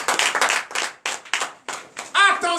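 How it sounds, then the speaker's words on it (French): Congregation clapping in a church service, bursts of rhythmic hand claps in quick groups with voices cheering and shouting over them, close and lively. "donnez de vives acclamations à notre Seigneur"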